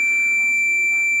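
A multimeter gives a continuous high-pitched continuity beep while a BMW ignition coil is tested for a misfire, one steady tone held throughout the short moment.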